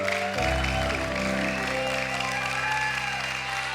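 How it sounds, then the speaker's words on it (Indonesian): A live magic-show audience claps in steady, sustained applause that fills the space, with a faint crowd murmur and a low musical drone underneath. "Boleh dong kasih tepuk tangan yang lebih meriah lagi"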